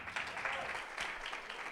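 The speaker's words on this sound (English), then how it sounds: "but a big clap for him." A crowd applauding steadily at a coding bootcamp demo day in Barcelona, a dense wash of many hands clapping throughout, moderately distant and fairly quiet.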